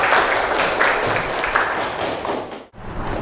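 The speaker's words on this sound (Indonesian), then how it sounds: "Oke, tepuk tangan untuk kita semua." A classroom of students applauding together, a steady wash of dense clapping that fills the moment, then briefly drops out before picking up again.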